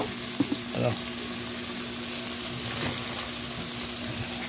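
Bitter gourd (ampalaya) sautéing in a pan gives a steady, moderate sizzle with a few brief scraping knocks near the start, continuing evenly throughout.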